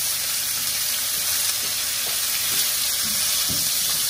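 Food sears in a preheated pan with olive oil, giving a steady, loud, close sizzle and crackle that runs unbroken throughout with no voices.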